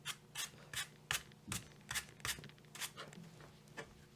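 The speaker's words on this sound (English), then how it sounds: "First thing I do is I take off the air cleaner housing and then just give it a quick brush." A brush scrubs a chainsaw air filter in quick, rhythmic strokes, about a dozen close, soft scratchy swipes at a steady pace with no talking.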